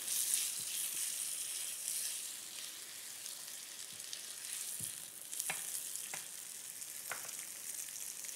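Spicy tomato sauce for spaghetti simmers and sizzles in oil, a faint steady frying hiss with a few soft taps and pops.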